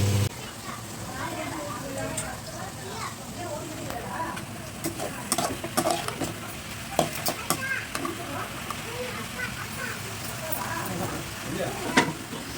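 Prawns fry in a pan for a prawn gravy with onions and tomatoes, giving a soft continuous sizzle broken by sharp clicks of stirring and utensil taps, while a person talks over it.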